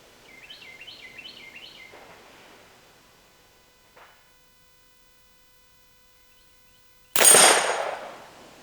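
A single loud, sharp pistol shot at a steel target on an outdoor range rings out near the end, after a stretch of faint bird chirps and a small click.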